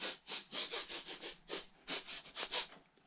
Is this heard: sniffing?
yes